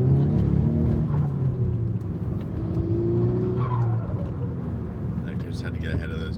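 Cars drive along a road, giving a continuous engine and tyre rumble under someone talking throughout.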